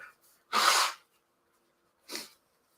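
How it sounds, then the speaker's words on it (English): A loud, breathy sneeze close by, followed about a second later by a second, quieter sneeze or sharp exhale. "Nothing like a sneeze or two to set you back."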